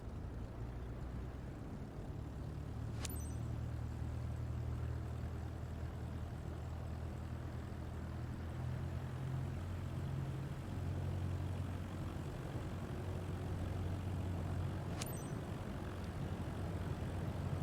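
Steady low propeller-engine drone from a light aircraft taxiing on a runway in Microsoft Flight Simulator 2024, a continuous rumbling hum that holds level throughout, with two brief faint clicks along the way.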